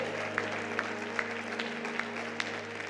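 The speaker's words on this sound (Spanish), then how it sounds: "un fuerte aplauso a la palabra del Señor" A church congregation claps steadily for the word of the Lord, a dense, continuous wash of applause over a low hum, with a few sharper claps standing out.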